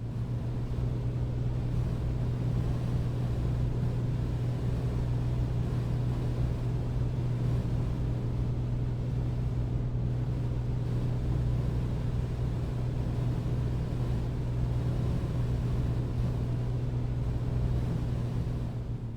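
A steady droning engine hum from a Piper Comanche aircraft in the A2A flight simulator, constant and unbroken throughout, with no voices over it.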